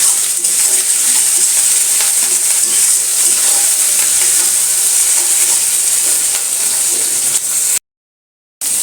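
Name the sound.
tomato frying with spices in pan, being stirred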